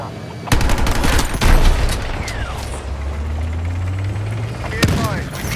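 Battlefield video game tank match gunfire: sharp, loud cannon blasts and scattered shots ring out over a constant engine rumble, with bursts of fire recurring across the scene.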